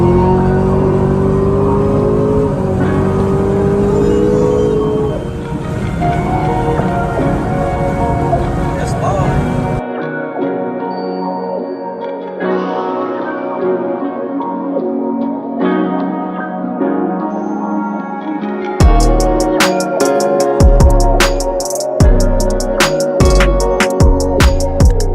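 A single turbo BMW M3 pulls at full throttle. The engine note climbs loudly and steadily, then drops to a quieter, muffled drone. Near the end it turns choppy and pulsing.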